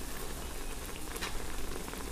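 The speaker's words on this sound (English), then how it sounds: "it's been boiling for about 7 minutes now" Water at a full rolling boil in a pot with tomatillos being cooked, a dense steady bubbling and popping hiss heard close up, with no talking.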